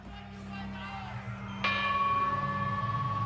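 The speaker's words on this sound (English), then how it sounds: "The bell tolls for thee" A tolling bell from the intro of a live Red Rocks 2017 performance rings out with one clear, sustained strike whose tone hangs over a low, steady drone.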